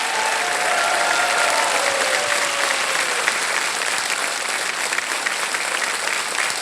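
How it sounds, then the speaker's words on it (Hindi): A studio audience on the quiz show KBC claps in steady, dense applause to welcome a roll-over contestant, sustained and even throughout with no voices over it. "मैं चाहता हूं एक बार फिर तालियों के साथ इनका स्वागत करें"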